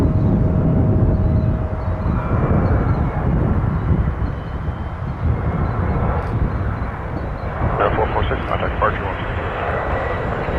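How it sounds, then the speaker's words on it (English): Jet engine roar from a Jazz Embraer 175 regional airliner at Toronto Pearson airport, a loud, steady rumble that gradually fades while a person talks over it. "This appears to be a Jazz Embraer 175."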